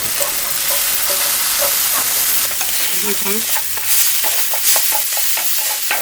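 Eggplant stir-fried with ground tomato in a pan sizzles steadily, with a spatula scraping and clacking against the pan in irregular strokes and no one speaking.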